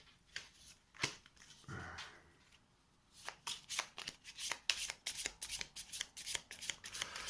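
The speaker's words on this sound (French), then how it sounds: "Et je vais donc mélanger mon deck d'action." A deck of action cards for a board game is shuffled by hand: a soft brush of cards, then a quick run of crisp riffling snaps, close and quiet with no talk.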